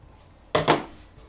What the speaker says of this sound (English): I'll cut that bit of selvage off there